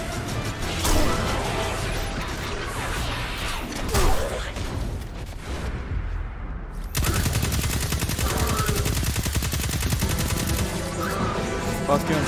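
Gunfire in the Destiny 2 campaign mission Thumos: dense, loud bursts of automatic fire and shots with mechanical clatter, breaking briefly before a continuous heavy barrage resumes.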